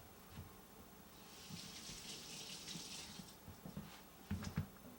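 Fresh tomatoes being washed under a running kitchen tap, a soft steady stream of water splashing in a sink with a few louder clunks near the end, fairly quiet and without speech.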